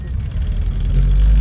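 Wide-body early Toyota Levin at a classic car meeting, its engine giving a deep, loud low rumble that builds steadily toward the end, close by with no talk.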